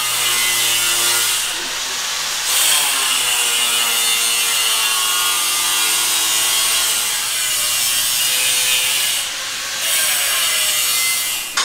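A tool cuts through the pinch weld on a Toyota Tacoma for tire clearance, producing a loud, continuous rasping, sawing noise that holds steady for several seconds with no talking.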